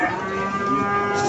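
Limousin cattle at a livestock market give a single sustained low moo, loud and close, with no talk over it.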